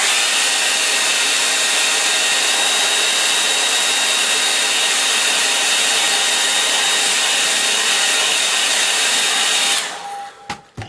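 A hair dryer blows loud and steady at close range while drying something off, a constant whooshing roar that cuts out abruptly near the end, leaving a few brief knocks.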